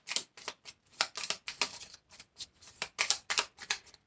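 Tarot cards being shuffled in quick, soft riffling bursts, a close and fairly quiet papery flutter repeating in an irregular rhythm with brief pauses between.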